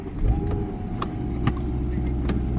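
A car, one bought from Copart and later stolen, pulls away at night with a steady low engine rumble and a thin whining tone, plus a few faint clicks, heard fairly close and without talk.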